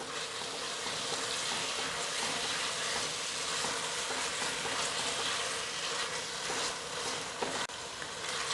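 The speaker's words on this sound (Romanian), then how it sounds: "Lăsăm ceapa și morcovii să se călească" Chopped onions and carrots sizzle softly and steadily in a pan while sautéing for a mushroom zacusca, a constant gentle hiss with no voices.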